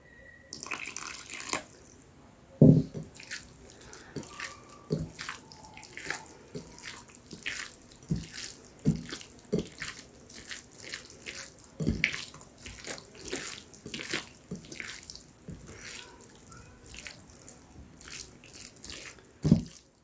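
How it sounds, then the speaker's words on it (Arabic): Water is poured into a dough mixture for light harcha batter in a home kitchen, a faint trickling stream with scattered clinks and bumps of the bowl and utensils over about twenty seconds. "نزيد واحد شويه الماء"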